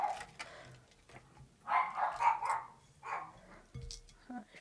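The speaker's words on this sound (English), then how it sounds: "Don't know what is setting the dogs off." Dogs bark in bursts, a few sharp barks and longer yapping runs at moderate distance, separated by quieter gaps with low background noise.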